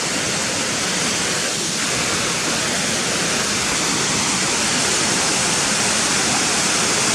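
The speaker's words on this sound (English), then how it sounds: "so I can get a clear shot of the waterfalls" A steady, full-bodied roar of a waterfall, continuous and unbroken, heard from fairly close at Gunnerside in the Yorkshire Dales with no voices over it.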